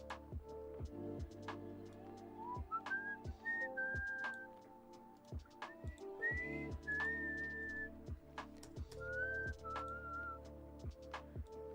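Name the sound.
person whistling into a microphone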